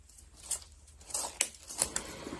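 Scissors snipping through ribbon while making a layered bow, a few short sharp cuts with crinkling rustle between them, close by.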